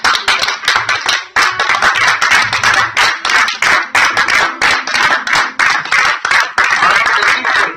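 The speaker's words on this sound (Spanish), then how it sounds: "Denle un aplauso al Señor." A church congregation claps loudly and close, many hands beating in a fast, roughly steady rhythm, with a faint tonal hum underneath and no speech.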